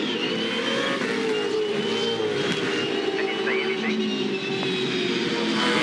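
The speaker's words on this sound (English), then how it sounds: "6-speed sequential gearbox feeds it back to second gear down here at turn 2. Little kink in the road and the gear shift up to 3." Onboard a 2014 Supercar race car at the Townsville 500, the engine drones loud and steady at high revs with a slight pitch shift as the six-speed sequential gearbox changes gear, continuous close-up engine roar throughout.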